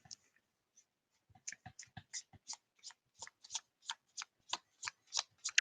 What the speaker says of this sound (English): Start shuffling.